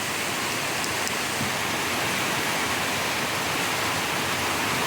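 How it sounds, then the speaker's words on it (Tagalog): Heavy rain pouring down in a steady, dense roar that fills the whole stretch without letting up, loud and close with no talk. "Grabe kalakas ng ulan guys."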